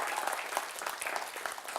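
A small audience claps at a marketing talk, a brief patter of scattered hand claps, steady and moderately quiet, with no talk over it.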